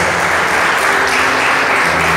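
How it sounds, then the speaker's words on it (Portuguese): A church congregation in a Portuguese-language service applauds the word of God, loud, continuous clapping filling the room from start to finish over a faint low hum. "desocupe suas mãos e aplaude a palavra de Deus"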